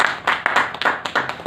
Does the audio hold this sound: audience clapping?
yes